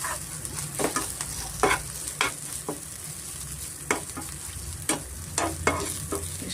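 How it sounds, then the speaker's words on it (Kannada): Curry leaf paste frying in ghee and oil for spicy pongal: a steady soft sizzle throughout, punctuated by repeated scraping stirs of a spoon against the pan, close and fairly quiet, with no talk. "ಸ್ವಲ್ಪ ಚೆನ್ನಾಗಿ ತುಪ್ಪ ಎಣ್ಣೆನಲ್ಲಿ ಚೆನ್ನಾಗಿ ನಾವು ಸ್ವಲ್ಪ ರಾಸ್ ಮೇಲೆ ಹೋಗೋವರೆಗೂ ಸ್ವಲ್ಪ ನಾವು ಚೆನ್ನಾಗಿ ಫ್ರೈ ಮಾಡ್ಕೊಬೇಕಾಗತ್ತೆ"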